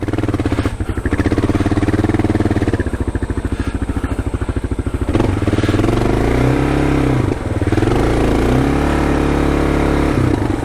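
KLR motorcycle engine revving hard and close on a steep, rough adventure trail in Australia, a loud continuous drone that rises and falls with throttle blips and brief dips as the rider struggles for traction.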